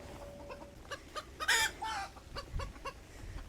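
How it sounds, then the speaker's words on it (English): Chickens in a backyard cage squawk and cluck in agitated alarm calls, a burst of loud, raucous cackling peaking midway among scattered sharper clucks, close by with no talk. "Chickens are going mad."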